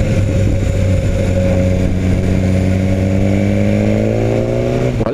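A BMW S1000R motorcycle engine revs hard and loud nearby, holding a steady throaty drone whose pitch climbs gradually through the run before cutting off at the end.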